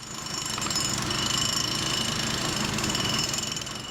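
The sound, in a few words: jackhammer driving rebar into the ground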